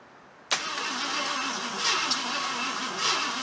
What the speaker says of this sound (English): Let's try it again, see if it'll crank over and fire.